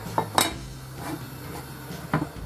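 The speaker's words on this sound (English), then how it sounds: "put the lid on." A lid set onto a cooking pot of coq au vin made with rooster, giving a few sharp metallic clanks close by in a quiet kitchen.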